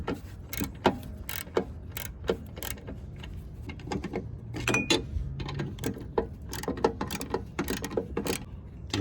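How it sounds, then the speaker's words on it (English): Hand-tightening bolts with a 13 mm socket on a Husqvarna riding mower deck spindle: irregular close metallic clicks and ratcheting taps in short bursts, fairly loud and alone without talk. "just get the same 13mm socket. Just tighten them with your hand."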